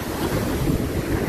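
Ocean surf on a Mombasa, Kenya beach, a steady broadband wash of breaking waves mixed with wind buffeting the microphone, continuous and fairly loud with no voices.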